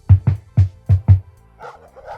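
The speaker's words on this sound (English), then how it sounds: "I wonder why the dogs are barking so much." Dogs barking in a quick, loud, close burst of five barks, followed by softer yips or whines.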